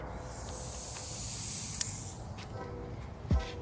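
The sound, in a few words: compressed air blowing off debris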